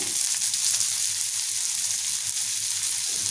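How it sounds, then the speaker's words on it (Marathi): Small mandeli fish frying in oil, a dense steady sizzle and crackle throughout, close and even in loudness, with no talking. "या पद्धतीने सर्व मांदिले आपण छान फ्राय करून घेऊया"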